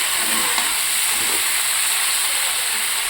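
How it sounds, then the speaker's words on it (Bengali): Chicken pieces sizzle steadily in a pan as they are stir-fried, a constant bright frying hiss running through the whole stretch with faint scraping underneath and no talking. "মাংস কিন্তু ঠিক কষা প্রায় হয়ে এসেছে মানে সিদ্ধ হয়ে এসেছে কষা চলছে"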